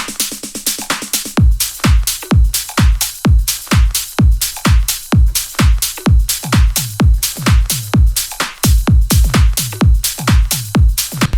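A loud electronic drum groove with rapid fill rolls breaking up the steady kick pattern, busy and dense with no voices.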